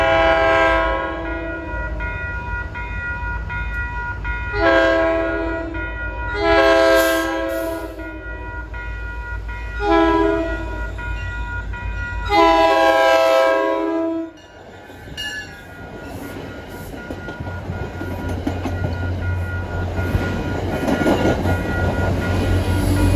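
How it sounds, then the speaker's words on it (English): An MBTA commuter rail train with a GM diesel locomotive approaches and sounds its multi-chime horn in several long blasts, loud and near. The heavy diesel rumble and rolling wheels follow as the train passes, with no speech. "Approaching at 10:53 is a train that originated out of Beverly."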